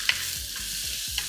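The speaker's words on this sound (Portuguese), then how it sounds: "Vou mexer essa cebola." Onion sizzles in a hot iron pan while a utensil stirs it, with a couple of sharp scrapes against the metal over a continuous frying hiss.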